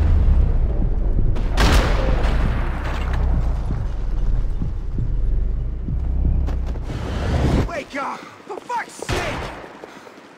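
Loud bursts of gunfire and heavy impacts in the video game Max Payne 3 go off in clusters, with booming shots early and sharp separate cracks toward the end, while a player swears over the action.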